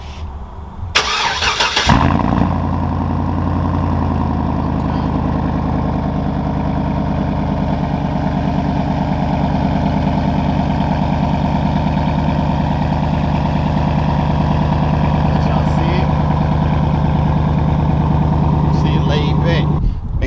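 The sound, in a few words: 2009 Chevrolet Tahoe idling with different exhaust setup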